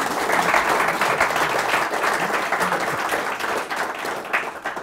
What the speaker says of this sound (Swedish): du får en välförtjänt applåd för det